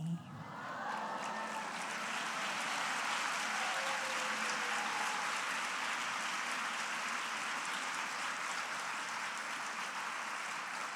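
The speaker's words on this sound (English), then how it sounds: "before you start clapping" A large crowd at an awards gala claps in a dense, sustained burst that swells quickly and holds steady throughout without letting up.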